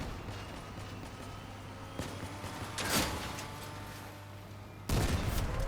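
Rapid bursts of vehicle-mounted gunfire in the combat game Crossout, a sustained fusillade under a steady mechanical hum, with a louder crack near the end.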